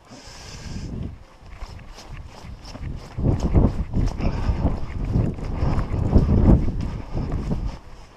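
Gusty outdoor wind buffets the microphone throughout during an air rifle group test, with low rumbling bursts and scattered thumps, louder in the second half.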